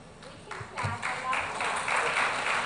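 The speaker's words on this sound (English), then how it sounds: "keep clapping" Event audience applauding in a hall, a steady wash of many hands clapping that builds and grows louder, with voices talking over it.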